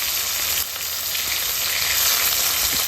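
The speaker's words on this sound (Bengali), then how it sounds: "মাছগুলো এক সাইড ভাজা হয়েছে, এবার আরেক সাইডটা উল্টে দিই" River fish pieces coated in turmeric fry in hot oil in a pan, a loud close sizzle that briefly dips as a piece is flipped over, then surges back into steady hissing.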